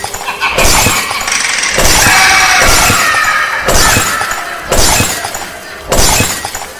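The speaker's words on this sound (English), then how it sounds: "Then he swung the bat down and smashed the windshield." A car windshield is smashed repeatedly with a bat, loud crashing impacts followed by sustained crunching and shattering glass, with several distinct blows spaced about a second apart.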